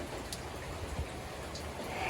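Rainwater leaking into a house makes a faint, steady patter and drip, with scattered soft drops over a constant low wash of rain.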